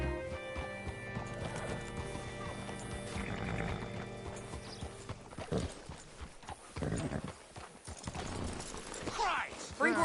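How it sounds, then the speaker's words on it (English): Horse hooves clip-clop and a horse whinnies in the western video game Red Dead Redemption 2, heard over a steady musical score with sharper thuds and movement noise toward the end. "Hitch your horse up here."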